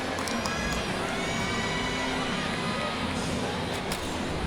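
A capacity crowd roars and cheers steadily throughout at an LSU home gymnastics meet against Utah, a dense, loud wall of arena noise with no breaks.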